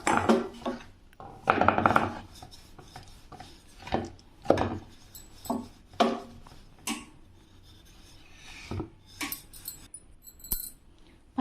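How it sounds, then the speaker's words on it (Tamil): A rolling pin presses pizza dough across a chapati rolling board in a home kitchen, giving repeated scraping, thudding strokes in uneven bursts with short pauses between them, close and fairly loud, with no voices. "இதை நம்ம சப்பாத்தி கல்லில் வச்சு நம்ம தேய்ச்சிக்கலாங்க"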